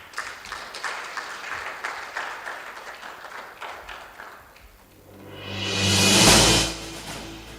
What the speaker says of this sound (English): Wow, let's give a round of applause for her.